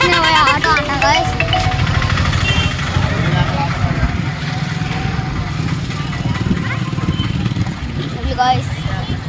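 Auto rickshaw engine running steadily and close, a buzzing two-stroke-like drone throughout with road noise, while voices talk over it.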